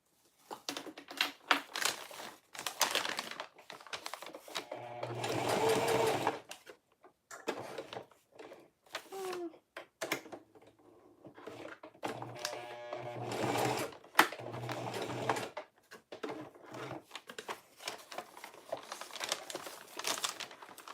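A sewing machine stitches a clear plastic tote with a gusset, running in several bursts of rapid mechanical whirring separated by pauses, with crinkling of the stiff vinyl and clicks between runs, close and fairly loud.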